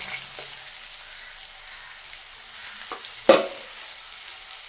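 Small shallots frying in a pan, a steady low sizzle with a few brief clatters of stirring, one sharper knock near the end.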